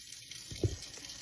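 Water running from a sink tap while something is rinsed off, a soft, steady splashing stream close by with one brief thump partway through.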